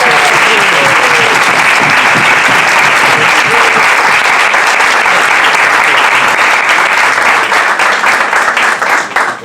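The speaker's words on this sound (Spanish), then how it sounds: "Los aplaudimos de una, vamos." Loud, sustained applause from an audience at a theatre-making talk, a dense roar of clapping with crowd murmur and a faint voice early on, holding steady until a slight dip at the end.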